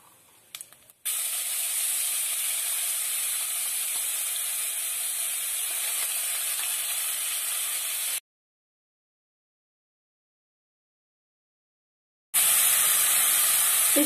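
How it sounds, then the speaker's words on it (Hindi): Steady loud sizzling hiss of onion and garlic paste frying in hot oil, cutting off abruptly into silence before resuming. "प्याज और लहसुन की हमने पेस्ट बना ली है, ये देखिए इसको डाल देंगे इसमें"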